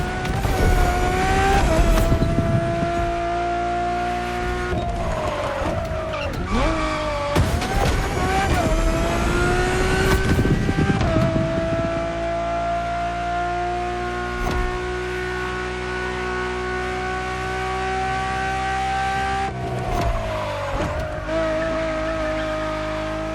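In the video game The Crew Motorfest, a Ferrari road-legal Formula One-style supercar screams at high revs with sustained engine whine, gear-shift dips and bursts of tire squeal, loud and continuous throughout.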